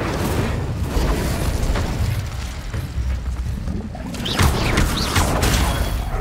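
Fire spell being cast in Hogwarts Legacy, a burst of whooshing, crackling flame with booming impacts, continuous and loud throughout with a swelling blast near the end.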